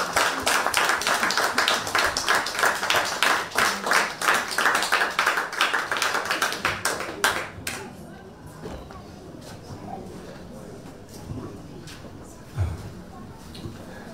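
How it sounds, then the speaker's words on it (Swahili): A crowd of attendees claps to welcome a chairman at a Kenyan community gathering with an MCA, dense steady applause for about seven seconds before stopping abruptly, leaving murmuring voices and faint background movement. "tupe makofi mazuri"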